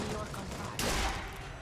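Gunfire from the first-person shooter Bioshock Infinite played on Xbox 360, with a single sharp loud shot bursting out midway over a dense, noisy game background.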